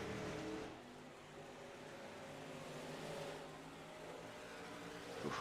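Race cars in the iRacing video game roaring off the start together, a steady loud engine drone with revving swells and no talk over it.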